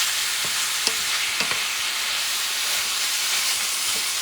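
Ground beef fries in a pan for Puerto Rican carne molida, a constant loud sizzle with scattered soft knocks and scrapes as a utensil breaks up the meat.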